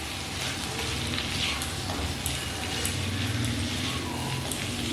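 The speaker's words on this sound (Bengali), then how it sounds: "সব কিছু ভালোভাবে একটু নাড়াচাড়া করে নিচ্ছি।" Ginger paste with turmeric and spices sizzles in a pan while being stirred, a quiet steady crackling fry with faint scraping.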